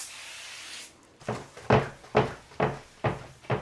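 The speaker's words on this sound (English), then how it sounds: "Always check all the drawers. Nightstand drawers too." Nightstand drawers are pulled open and pushed shut in an Airbnb bedroom, giving five sharp wooden knocks at a steady rhythm after a brief hiss, close and fairly loud.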